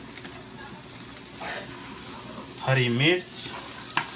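Vegetables, including green chilli and carrot, fry lightly in a pan with a low continuous sizzle and occasional stirring, while someone speaks briefly over it near the end.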